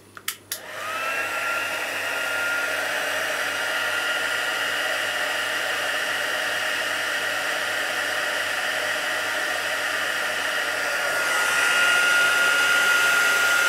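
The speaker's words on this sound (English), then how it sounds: "it's better to have the hot heat tool before you actually start" A heat embossing tool blows a steady, loud whooshing roar like a hair dryer after a few clicks as it switches on, holding constant and swelling slightly near the end.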